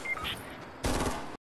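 Hunting rifle with an attachment fired in Fortnite, a single loud, sharp in-game shot near the end of a brief moment of background game noise.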